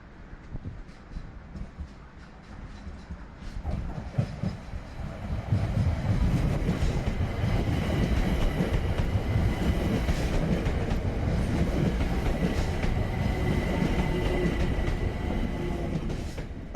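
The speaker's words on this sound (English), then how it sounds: "This means that an up train is imminent." An up train on the East London Line passes close by on the single-track railway near New Cross, building from a quieter approach into a loud, sustained rolling roar with clattering wheels that lasts to the end.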